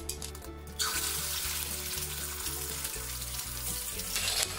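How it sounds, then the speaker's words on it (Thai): Eggs cracked into hot oil in a wok, cooked over medium-high heat for a stir-fry of luffa gourd with egg, sizzle loudly and steadily after a brief quieter start, a close continuous frying crackle. "พอน้ำมันร้อนแล้วเนี่ยเราก็ต่อยไข่ลง"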